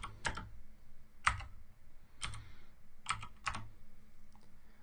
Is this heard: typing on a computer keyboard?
yes